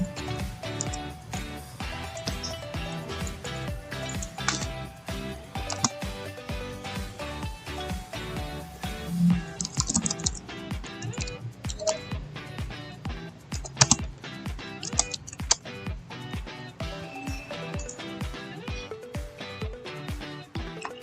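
Typing on a computer keyboard while creating a Pixton comic, a steady run of light, close key clicks with a few louder taps, continuing without pause throughout.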